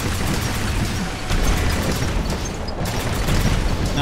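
Artillery shots exploding in the video game War Robots, a dense run of loud booming blasts and bursts that keeps rolling with brief gaps, heavy low rumble and no talk.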